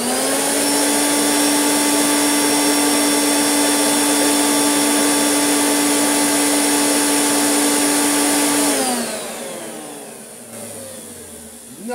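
Hoover Turbopower UB088 upright vacuum cleaner running steadily at speed 1 with a loud, constant whine, then spinning down and fading after about nine seconds.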